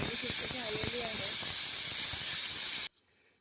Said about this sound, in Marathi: तर ही होणार आहे आता पहिली शिट्टी.